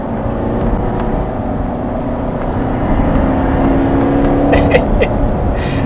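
Chevrolet Corvette Stingray Z51 engine pulling hard while driving, a steady loud drone with a rising tone midway, heard from inside the car with no talking.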